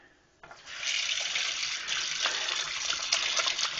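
Tap water pours steadily into a sink while handmade soap is lathered, a continuous hissing splash that starts abruptly after a brief quiet moment and runs on alone.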